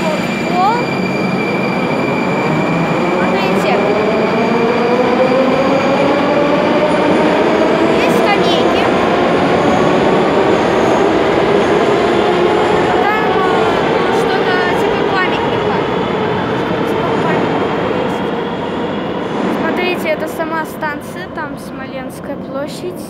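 Metro trains run through Smolenskaya station, a steady loud rumble with rising and falling wheel whine and rail noise throughout, while a voice talks over it.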